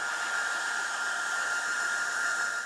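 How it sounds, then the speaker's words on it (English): Handheld hair dryer blows steadily on a painted Nazgul sword prop, a constant close whooshing hum with a bright motor whine that holds level throughout, no talking. "we're going to hit this with the hairdryer"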